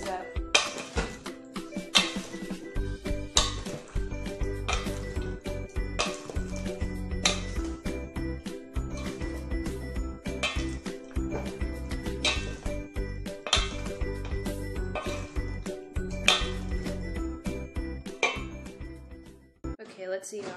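Pasta salad dressed with balsamic vinaigrette is stirred in a bowl, giving repeated clinks and scrapes of a utensil in a steady rhythm for about twenty seconds, with faint sounds in the background.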